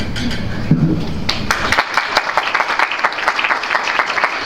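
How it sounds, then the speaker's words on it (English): A burst of applause from a group at a streets summit, loud and steady, with a voice briefly audible at the start before the clapping fills in. "Those hand claps are for you."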